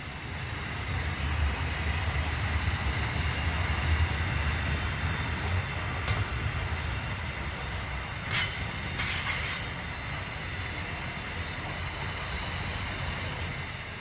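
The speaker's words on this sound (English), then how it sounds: "The NR class locomotives are General Electric CV40-9s and were a huge leap forward in efficiency and horsepower for Australian railways" General Electric CV40-9 NR class locomotives haul a westbound intermodal freight train through Mt Lofty station, a loud, steady rolling rumble with brief high wheel squeals and hisses, and no talk.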